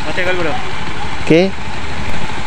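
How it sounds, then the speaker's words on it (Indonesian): A rough, uneven Honda Vario 110 FI scooter engine with an engine fault idles steadily up close, with a couple of brief voice-like sounds rising above its rumble. "saya curiga ini di bagian mesin ya problemnya karena suaranya kasar sekali"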